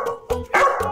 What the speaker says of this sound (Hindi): ये बहुत ही संस्कारी कुत्ता है